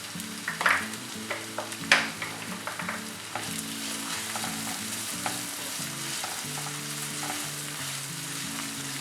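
Chopped onion and curry leaves sauté in hot oil, opening with a few sharp clinks of stirring, then settling into a steady, moderate sizzle with soft music beneath.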